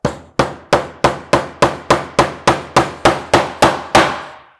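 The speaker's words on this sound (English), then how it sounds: "I'm going to go ahead and hammer in my first nail" A hammer strikes a nail into a wooden planter box about thirteen times in an even rhythm. The blows are sharp, close and distinct, each ringing briefly before the next.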